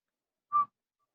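A single short, clear whistle, a brief pure tone lasting about a fifth of a second, close by in an otherwise quiet room.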